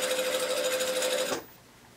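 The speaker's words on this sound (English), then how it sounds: "I'm going to sew to this pin." A sewing machine stitches fabric in a fast, steady whir for just over a second, then stops abruptly, leaving quiet room tone.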